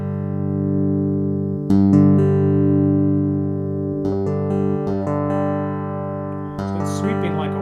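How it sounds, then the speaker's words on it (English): A Chapman Stick played through a bass preamp with sweepable mid-range EQ rings out in a few sustained, buzzy bass notes. Each new note is plucked at a slow, irregular pace and rings on, loud and close, with no one speaking over it. "Here's the sound of the bass mid-range."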